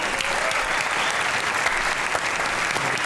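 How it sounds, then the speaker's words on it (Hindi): Dense, sustained applause from a studio audience at a talk show taping, steady and loud with no breaks. "बहुत दिनों बाद भरपूर तालियां"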